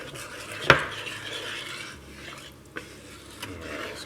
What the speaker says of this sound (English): we're going to stir that around for a couple minutes